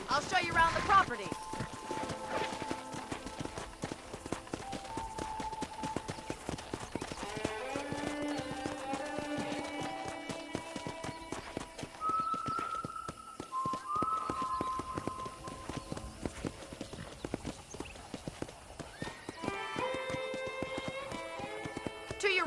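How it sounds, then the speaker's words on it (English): Steady clip-clop of horse hooves at a walking pace in the video game Red Dead Redemption, heard amid layered music with sustained melodic tones throughout. "let's see if you can still ride a horse"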